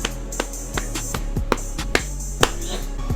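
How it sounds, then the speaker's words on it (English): Sparse individual claps ring out one at a time on a livestream, roughly eight sharp hits spaced irregularly over a low steady background hum. "Someone else is clapping right now."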